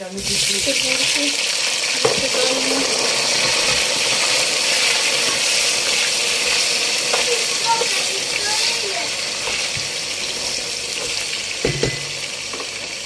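Liver, onion and carrot frying in a pan, a loud, steady close sizzle with hissing steam running throughout and a few faint knocks, while a voice talks softly underneath.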